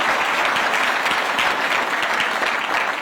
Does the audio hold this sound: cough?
no